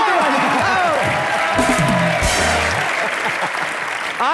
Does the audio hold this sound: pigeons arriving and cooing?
no